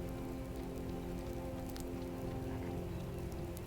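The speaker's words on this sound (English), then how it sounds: "broken up by the sound of the skies opening up with a deluge of rain" Heavy rain pouring down in a dense, continuous hiss with scattered sharper drip impacts, steady and evenly loud throughout, no voices.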